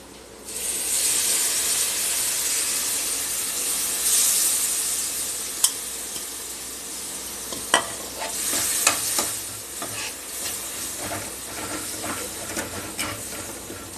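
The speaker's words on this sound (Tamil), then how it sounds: "இப்போ 1 நிமிஷம் வதக்கிட்டு கரைச்சி வச்சுருக்க அந்த புளியை ஊற்ற போகிறேன்" Tirunelveli-style fish curry cooking in a pan, a loud steady sizzle and hiss that builds as tamarind water goes in, followed by a run of scattered clicks and spatula knocks.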